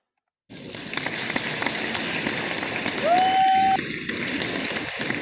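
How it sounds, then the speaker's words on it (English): Applause from a variety show audience sending off a performer, a steady crackling patter of clapping throughout, with a brief whistle-like tone partway through. "Another round of applause for Jorge Martinez."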